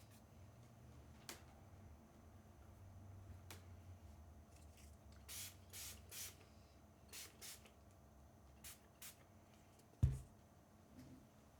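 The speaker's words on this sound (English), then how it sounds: "Gotta spray my canvas just a little bit." A handful of quick, faint spritzes from a spray bottle misting a painting canvas, short hissy bursts in a small cluster, with a soft thump near the end.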